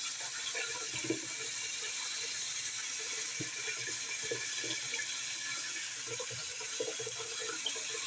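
Tap water running steadily into a sink while split peas are rinsed, a continuous close splash with small clinks and knocks of the peas and container, no talk.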